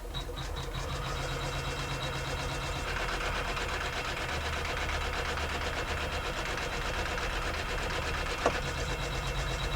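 An embroidery machine stitches out colorway 4 to secure the first pocket of a small in-the-hoop wallet, giving a steady, continuous mechanical whirring hum with rapid needle rhythm and a brief sharp click near the end.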